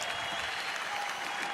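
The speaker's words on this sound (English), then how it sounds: "So please give him a round of applause as our heavyweight champion of the world" A boxing crowd at a heavyweight title fight between Usyk and Joshua applauds, a short, steady, distant-sounding roar of clapping from a large arena audience lasting under two seconds.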